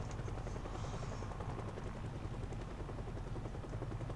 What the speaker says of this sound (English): Because I think the helicopter attracts them from quite a big radius